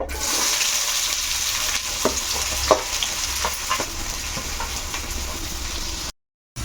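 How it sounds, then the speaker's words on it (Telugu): Onions and slit green chillies fry in hot oil in a home kitchen pan, a steady close sizzle with a few brief clicks of stirring, then a sudden cutoff near the end. "ఇంకా మనం ఇది బాగా వేయించుకోవాలి"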